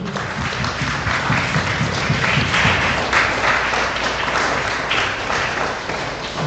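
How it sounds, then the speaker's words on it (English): An audience applauds Atalia Jeffers at an annual interprimary school quiz, dense sustained clapping from a large crowd filling the room loudly and evenly throughout, with only faint voices beneath. "So she deserves a round of applause"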